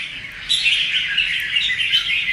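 Wild-caught songbird, a black-bibbed bulbul, sings loud and close in a continuous stream of bright chirps and warbling trills with no pauses.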